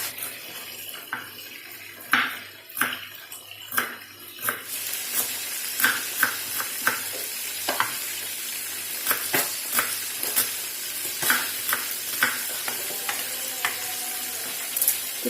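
Salmon frying in a pan gives a steady sizzle, overlaid with irregular clicks and sharp taps from the kitchen, some of them close and loud.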